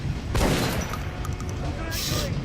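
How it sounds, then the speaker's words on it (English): A single gunshot at a practice target in Metro: Last Light, a loud booming report early on with a fading tail and mechanical clinks after, with a voice talking over it. "we'll shoot one more target for fun"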